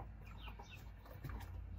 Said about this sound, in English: She likes to cluck for me.